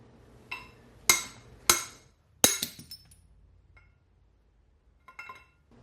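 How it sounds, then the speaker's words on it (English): Metal hammer blows on a steel drift knocking out a wheel bearing race from a magnesium rim: a few sharp, ringing clanks spaced about half a second apart, loud and close, then fainter lighter taps. "Start tapping. More like start smacking that drift."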